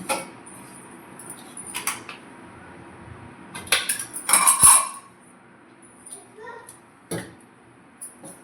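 A wide metal cooking pot for fish curry is set onto a kitchen stove, with scattered close clanks and jangles and one sharper metallic knock among quiet pauses.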